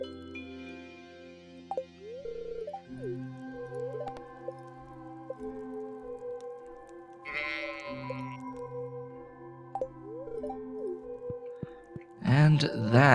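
Sheep bleating in the video game Stardew Valley, a few short wavering bleats popping up over a quiet game music backdrop, with a louder burst near the end.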